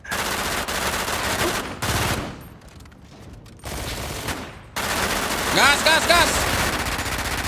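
Loud bursts of automatic gunfire in GTA 5 roleplay come in several volleys separated by short lulls, with a voice shouting over the shooting.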